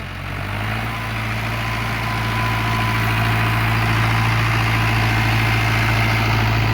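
A tractor engine runs in a farm field, holding a steady, droning low hum that grows slightly louder and stronger as the throttle is raised, with no voices over it.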